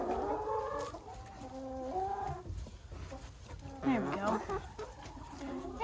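Several chickens cluck softly and steadily while dust bathing in a sand-filled crate. The murmuring calls rise into one louder, squawking cluck near the end, with a person talking quietly nearby.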